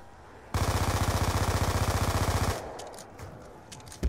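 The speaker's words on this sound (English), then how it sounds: "now shoot the zombies" Rapid automatic gunfire from the Black Ops 2 zombies mode rattles in a loud, steady burst for about two seconds, then gives way to scattered softer game sounds.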